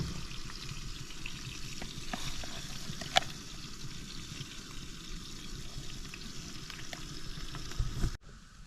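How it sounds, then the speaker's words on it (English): Pancakes sizzle on a Camp Chef outdoor stovetop, giving a steady, close crackling hiss that runs unbroken through the clip, with one brief sharp click midway and a sudden cutoff near the end. "There they are, sizzling away."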